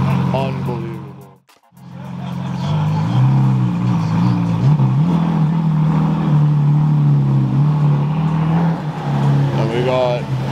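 A Pininfarina Battista electric hypercar moves off, a steady low drone rising and wavering with motion and building to a loud, sustained pass, with a brief dropout early on.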